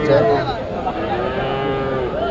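Cattle at a busy rural cattle market (haat) in Gokul, Bogura low in a long, wavering moo close by, over a crowd murmur.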